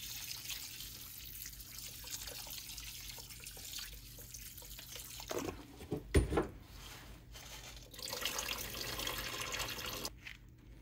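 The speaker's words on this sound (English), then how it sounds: "Rinse it with some distilled water." Distilled water trickles and splashes faintly as a gold-refining vessel is rinsed, with a quiet steady flow, a few louder splashes midway and some sloshing near the end.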